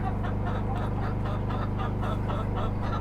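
Chickens crowd a hen house, their steady clucking and squawking close and continuous, layered over a constant low hum.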